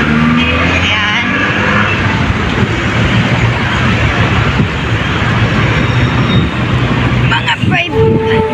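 MRT 3 train rumbling overhead on the elevated line above Commonwealth, a loud continuous roar of wheels and traffic heard from street level below, with a brief clatter near the end.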